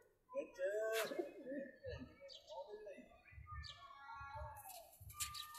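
Pigeons kept in a coop at a home loft coo in several soft, warbling bursts with a few chirps, mixed with people talking nearby.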